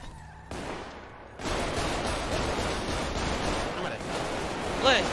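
Sustained gunfire in the GTA video game, a dense noisy rattle of shots filling the clip, with a brief voice near the end.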